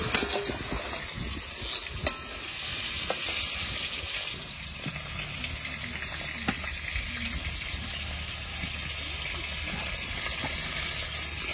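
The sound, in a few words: vegetables frying in oil left from frying fish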